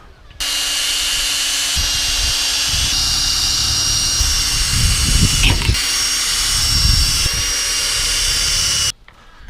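A power drill bores pilot holes while a storm door is installed, a loud sustained high whine lasting most of the clip with shifting pitch and grinding bursts, close by, starting and stopping abruptly.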